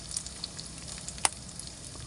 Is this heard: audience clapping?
no